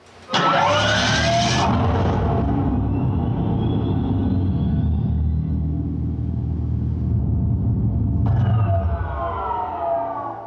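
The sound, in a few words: Dodge Charger EV startup sound when pressing starter button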